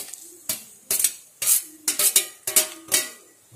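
Small onions and tomatoes sautéing in a pan, a spatula scraping and clanking against the metal about seven times in quick rhythm over a low sizzle, close and clear.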